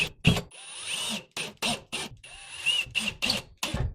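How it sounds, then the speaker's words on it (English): Power drill driving a couple of screws through a panel into drywall in a bathroom, repeated short whirring bursts with motor whine and pauses between them, close and loud. "I'm going to put a couple screws in here just to hold it in place."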